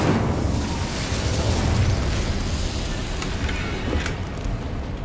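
An Incendio fire spell bursts in Hogwarts Legacy, a loud roaring whoosh of flame with rumbling low end that fades slightly over several seconds, no voices.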